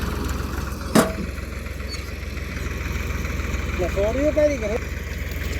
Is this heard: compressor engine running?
yes